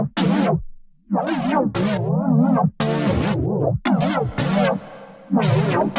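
A D minor chord on a MiniFreak V synthesizer with LFO shaping and a shimmering chorus effect plays in a rhythmic sequence of swelling and chopped stabs, loud and close, with brief gaps between phrases.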